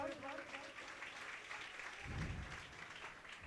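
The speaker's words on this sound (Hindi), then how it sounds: "इसी भी ये दोनों बच्चों के लिए ताली बजाओ एक बार।" Audience at a Shrimad Bhagavat Katha religious gathering in Morena, Madhya Pradesh claps for children, a steady spread of hand claps running throughout, moderately loud under a busy background, with a low thump near the middle.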